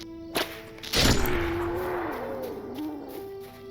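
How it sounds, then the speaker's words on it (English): A hill grouse calls in the fantasy game LOTRO, a thin sustained tone that wavers and bends over several seconds after a sharp thud, fairly quiet with no talk. "Hill grouse, those are cool birds."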